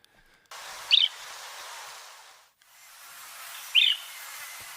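Whitethroat song mimicking a white-throated bee-eater from Senegal, two short bright bursts about three seconds apart, set in a soft hissing wash of background noise.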